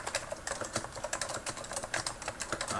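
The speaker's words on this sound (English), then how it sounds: "Aha, it's an Alps. Normally Alps are clicky, but this one isn't." Fast typing on a Silicon Graphics AT101 keyboard with non-clicky, tactile Alps switches, giving a dense run of soft, muted keystrokes, close and steady with no speech.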